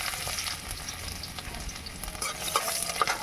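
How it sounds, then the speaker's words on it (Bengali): Chopped garlic fries in hot oil with a steady, close sizzle and crackle, dense and even from start to finish, with no voices. "তেলে দিয়ে দিলাম রসুন কুচি।"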